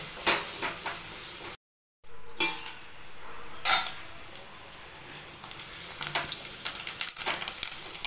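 Curry leaves and three green chillies fry in a pan for a home-made chicken curry, giving a steady close sizzle with clinks and scrapes of a spoon stirring, a brief gap, and no talking.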